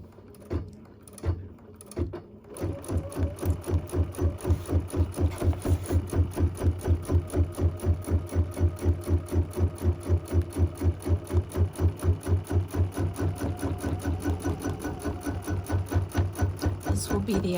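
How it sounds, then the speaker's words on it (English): An embroidery sewing machine stitches a placement line in the hoop for an in-the-hoop project, starting after a few scattered taps, then running in a steady, rapid, close mechanical rhythm that continues to the end. "my machine wants to sew a line along here for me to follow"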